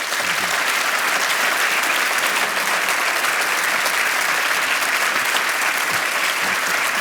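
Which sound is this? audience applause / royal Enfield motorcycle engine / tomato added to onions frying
audience applause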